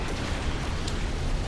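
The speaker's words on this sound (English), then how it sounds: "Yeah, we're just gonna watch all the pretty explosions go by" Explosions in the cinematic of the real-time strategy game Ashes of the Singularity make a dense, continuous, rumbling roar of blasts, loud and steady throughout with no talking.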